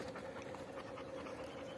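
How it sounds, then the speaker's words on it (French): A dog pants quickly and softly in a rhythmic run of short breaths outdoors on La Rhune mountain in the Basque Country, faint and close, with no talking. "Oh, le chien est toujours là."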